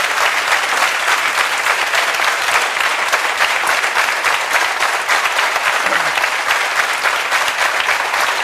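An audience applauds steadily and loudly for the full stretch, a dense, continuous patter of many hands clapping with no pauses and no voice rising above it.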